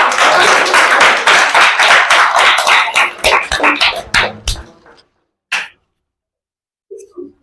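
Audience clapping at a school Teacher's Day program before a doctor-and-patient skit, dense and loud for about four seconds, then thinning out into scattered claps and dying away to near silence.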